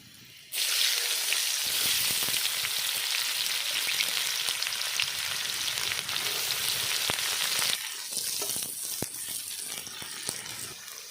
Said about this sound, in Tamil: நறுக்கி வச்ச வெங்காயத்தை போட்டுருவோம்